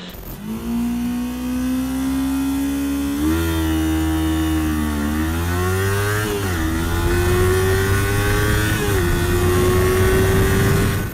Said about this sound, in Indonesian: di tes akselerasi kan kita tahan putaran mesin tuh